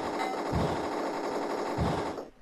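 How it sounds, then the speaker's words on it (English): Rapid machine-gun fire from the Amiga game Rollercoaster Rumbler, a continuous harsh chattering burst with two deeper thumps, ending abruptly. "take a look behind us and shoot things behind as we travel along"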